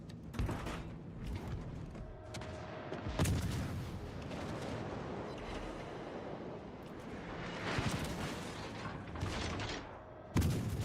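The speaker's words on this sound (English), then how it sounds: "Concentrate fire on the enemy warship." Warship guns fire in a naval battle video game as several deep, booming salvos at irregular intervals, with rumbling and mechanical noise between them, moderately faint overall.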